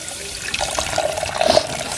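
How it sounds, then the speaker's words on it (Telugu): Milk poured from a cut packet into a clay pot, a short liquid trickle that swells toward the end, close and fairly quiet with no talking. "నేనైతే ఈ మట్టి కుండలో పాలు పోస్తున్నాను"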